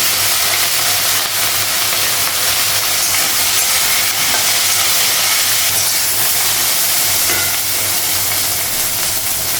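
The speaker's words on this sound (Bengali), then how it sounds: "গোটা জিরে দিলাম, কাঁচা লঙ্কা শুকনো লঙ্কাটা লাগানো, ঢ্যাঁড়সটা লাগানো" Whole cumin, green chillies, dried chillies and okra fry in hot oil in a pan, giving a continuous close hissing sizzle with no talking.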